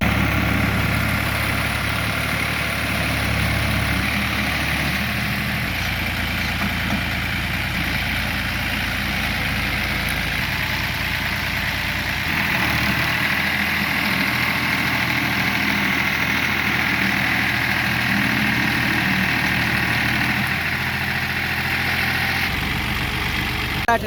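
A tractor engine idling on a farm during field preparation for wheat sowing, a loud, steady low rumble with constant vibration that holds unchanged throughout.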